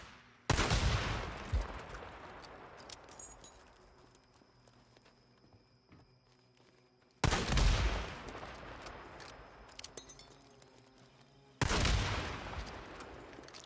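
Gunfire in the video game Days Gone erupts as three loud, isolated blasts spaced several seconds apart, each decaying into quieter ambient game sound.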